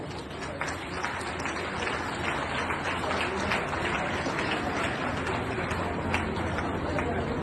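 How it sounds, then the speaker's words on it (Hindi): Loud, dense applause from a large crowd at a ceremony honouring sports talents such as a national shooting champion, a steady roar of clapping filling the whole stretch without a break. "जोरदार करते ध्वनि से खेल प्रतिभाओं का भी अभिवादन करें"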